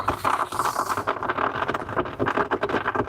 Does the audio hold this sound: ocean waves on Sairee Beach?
no